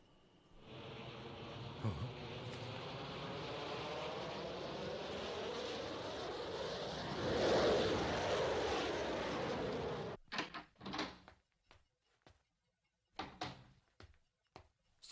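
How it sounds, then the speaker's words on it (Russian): A transport airplane taking off, its engines a steady, loud roar that rises in pitch and swells before cutting off, followed by scattered sharp knocks and bangs. "транспортный самолет только что поднялся в воздух"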